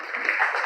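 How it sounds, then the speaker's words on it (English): Brief burst of audience applause from an office crew at a training session, a steady wash of clapping hands at moderate level, cut off after well under a second. "Give them a round of applause."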